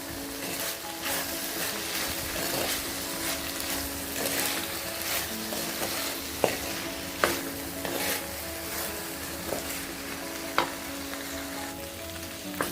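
Okra and tomato sautéing in a pan, giving a steady, fairly loud sizzle with a few faint clicks from stirring.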